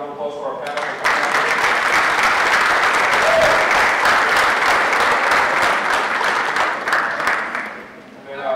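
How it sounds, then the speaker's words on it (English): Sustained applause from a summit audience for a panel of speakers, loud and dense from the first second on, with a short voice before it and another near the end as the clapping fades. "We have another round of applause for our panel."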